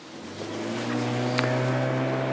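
A steady boat motor drones in a low, even hum on the water that grows slightly louder, with no voices over it.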